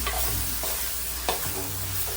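Small prawns stirred in a frying pan: a spoon scrapes and turns them in a few distinct strokes over a constant close sizzle of frying.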